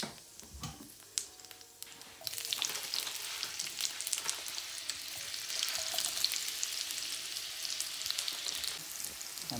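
Chopped onion and cumin seeds sizzle steadily in hot oil in a pan for sukuti fry, a dense bright crackle that swells louder partway through and carries on alone without talk.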